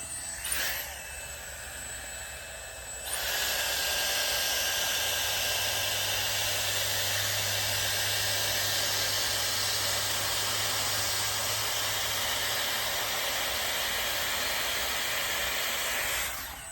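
A Dyson Airstrait hair straightener blows steadily on dry mode at 285, a loud, even airflow hiss and motor whine that starts after a short quieter stretch, holds for over ten seconds and then tapers at the end.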